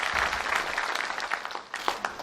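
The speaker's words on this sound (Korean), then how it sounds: "제가 부탁드렸는데 박수 주십니다" Crowd applause at a justice ministry speech to staff: many hands clapping in a dense, lively patter that holds steady and then thins slightly near the end.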